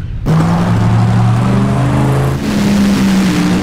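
An NHRA drag racing car launches hard off the starting line, its loud engine roar sweeping upward in pitch, dipping briefly, then howling on close and unbroken.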